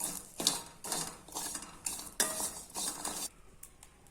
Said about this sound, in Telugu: దోరగా వేగేంత వరకు ఇలా ఊకే కలుపుతూ వేయించుకోవాలండి, లేదంటే మాడిపోతాయి